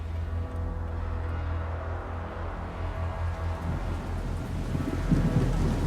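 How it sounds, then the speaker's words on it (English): Steady rain hisses down over deep rumbling thunder, a dense, continuous wash of sound that swells louder near the end as a heavier roll of thunder builds. "The rain was hissing down around me"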